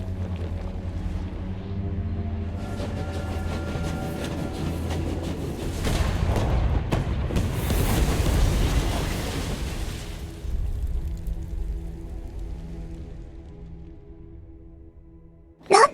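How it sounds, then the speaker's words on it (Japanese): Artillery shell explosions in the video game War Hospital: a rolling, rumbling series of heavy blasts swells through the middle, over a steady low droning backdrop, then fades away. "おそらく流れ弾か、極めて正確な砲撃か。"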